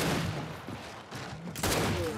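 Gunfire in Gears 5 free-for-all play, a few dense bursts of shots at the start and end with a brief lull between, loud and close, no talk.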